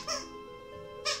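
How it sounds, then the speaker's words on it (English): Two sharp squeaks from a dog chewing a squeaky toy indoors, one at the start and one at the end, fairly quiet with a low hum between them. "my dog is chewing on a squeaky toy in the background"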